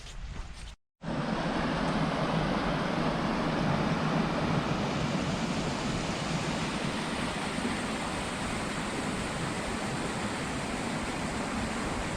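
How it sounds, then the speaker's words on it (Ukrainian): A small river rushes and flows beneath a swaying footbridge on a winter mountain hike, a steady, loud, close wash of water that continues after a brief dropout near the start. "Річечка тече, шумить, місточок хитається."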